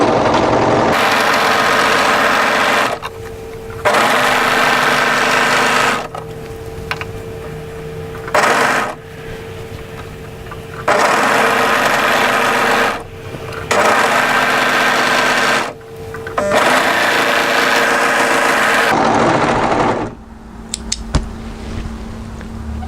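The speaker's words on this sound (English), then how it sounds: "and just overlock on the raw edge" An overlocker runs along the raw edge of a camisole's fabric facing in loud, steady bursts of whirring stitching, each lasting a few seconds and separated by short pauses, with the motor stopping and restarting several times.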